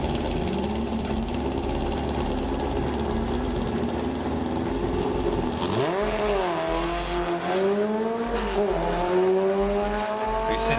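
Turbocharged VR6 Volkswagen Golf running nitrous at a drag strip roars through its gears, a loud, rising engine note with sharp shifts and climbing revs that stays up front throughout.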